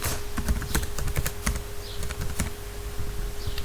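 Fast, irregular clicking of keys on a computer keyboard during spreadsheet work, close and crisp, with a faint steady hum underneath and no speech.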